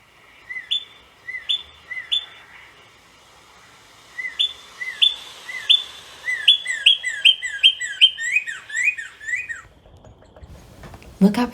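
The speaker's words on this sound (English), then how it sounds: "2 cardinals in a tree." Repeated bright chirps from two cardinals in a tree, coming in quick bursts with pauses, fairly close, ending with a brief rustle.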